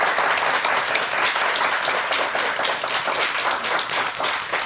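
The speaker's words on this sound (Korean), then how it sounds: "자, 그럼 여기에 대한 구체적인 강의 큰 박수로 다시 한번 청해 보겠습니다" A television studio audience applauds a lecturer, a Soonchunhyang University police administration professor, with steady, dense clapping from many hands that carries evenly through the whole stretch.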